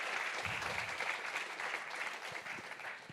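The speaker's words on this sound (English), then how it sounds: "A big applause for him." Audience applause for a speaker introduced at the Speck&Tech tech meetup: a steady wash of clapping from a crowd, moderately loud and continuous throughout, with no talk over it.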